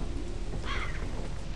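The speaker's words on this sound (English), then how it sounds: "It's raining." Steady hiss of rain with a low thunder rumble in a video game, a brief continuous wash of noise without talk.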